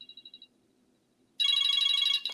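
Telephone ringing repeatedly: a short run of quick electronic trills fades out, then after a pause a much louder sustained ring starts and continues to the end.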